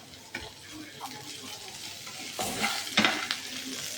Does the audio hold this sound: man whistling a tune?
no